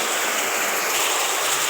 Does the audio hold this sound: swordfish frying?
no